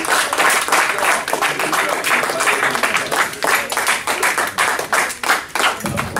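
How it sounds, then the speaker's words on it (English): Audience applause at a morning religious gathering, dense sustained clapping from a crowd filling the whole stretch, loud and steady with no pause. "Let's give Akh Oren another round of applause."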